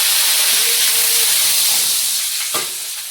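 Five-spice and bay leaf hit hot oil with a loud, steady hiss, a close broadband sizzle that fades slightly near the end after a brief clatter.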